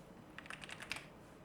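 Quick burst of typing on a computer keyboard, about eight soft, close key taps in under a second against a quiet room.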